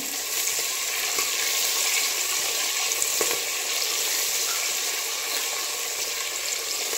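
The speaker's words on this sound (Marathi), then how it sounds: "पहा, आता इथे कांदा भाजण्यासाठी आपल्याला 4 ते 5 मिनिटं लागू शकतात।" Onion frying with cashews in a pan for vegetable pulao gives a steady, even sizzle throughout, close and moderately loud with no talking.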